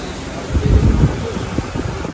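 Steady rain falling with a dull rumble and gusty wind noise against the microphone, continuous throughout.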